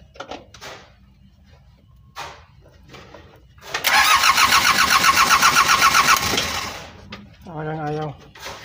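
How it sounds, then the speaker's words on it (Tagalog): A stubborn engine is hand-cranked but refuses to start, the loud rapid churning of the crank running for a few seconds between bits of nearby talk, with no catch or idle following. "Ika-crank natin mga boss, talagang ayaw mag-start."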